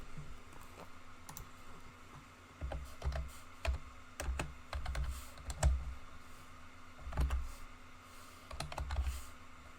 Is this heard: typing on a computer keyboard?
yes